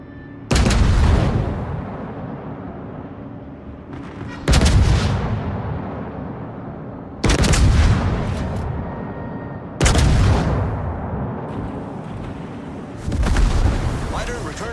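Naval guns of the Tier VIII German battleship Anhalt in World of Warships fire heavy salvos at regular intervals, five loud booming blasts each trailing off into a long rumbling decay, with game voice callouts mixed in.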